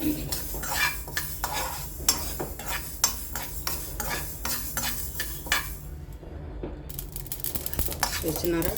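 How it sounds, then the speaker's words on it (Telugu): Mustard seeds crackling in hot oil for a tomato pickle tempering, busy sizzle with scattered sharp pops and spoon-against-pan scrapes and clinks, close up, with a brief quiet gap near the end. "ఆవాలు చెట్పట్ పేలాలి"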